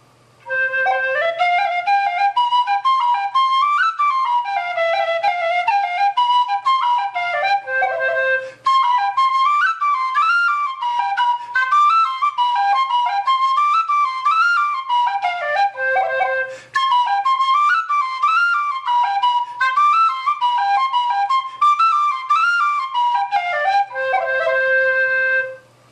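A Parks plastic tin whistle with its tuning ring open plays a lively jig-like tune, clear bright notes in rapid ornamented runs, with brief pauses between phrases.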